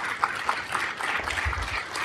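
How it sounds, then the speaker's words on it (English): Audience applause at a city council meeting in Norwalk, a steady, soft wash of many hands clapping throughout, moderately distant with no clear voices. "Let's give her a round of applause"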